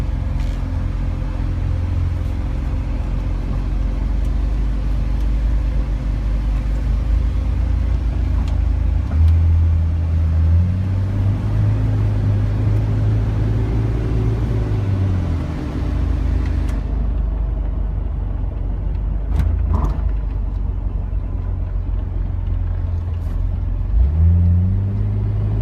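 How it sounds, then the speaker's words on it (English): A fully built Jeep TJ Wrangler rock crawler with 5.13 gears drives down the road, its engine droning steadily with road rumble and rising and falling through shifts, heard from inside the cab. "Tell you what, with the 513 gears, this thing has absolutely no problems going down the road."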